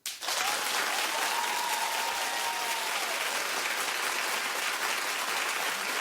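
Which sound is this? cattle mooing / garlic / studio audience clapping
studio audience clapping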